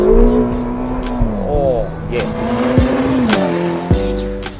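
A 2015 Ferrari California T with a sports exhaust accelerates hard, its engine note rising and shifting through gears with brief tire squeal, loud and close beneath a short spoken exclamation.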